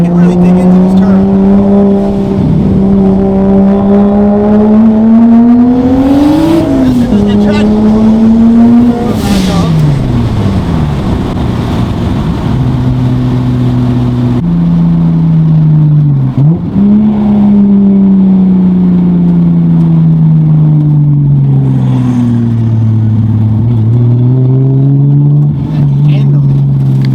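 A single-turbo Toyota Supra engine revs and shifts continuously while cornering on a paved turn, loud and close, with its pitch rising and falling, and someone talking over it.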